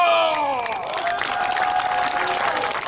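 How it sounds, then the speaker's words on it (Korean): Applause breaks out at a press conference by parents' and civic groups, a burst of clapping with some cheering and crowd noise, plus a descending tonal sweep early on. "박수!"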